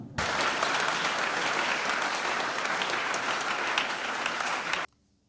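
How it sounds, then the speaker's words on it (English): Audience applause during the Fijian Minister for Education's visit to Ratu Kadavulevu School, a full, even burst of many hands clapping that runs steadily for nearly five seconds before stopping abruptly. "let's give another big round of applause"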